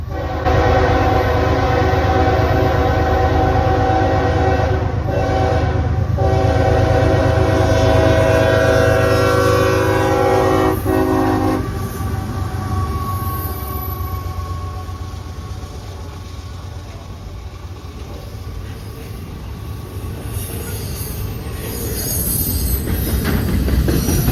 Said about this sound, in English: we will catch this CSX intermodal train coming with a rebuild trailing second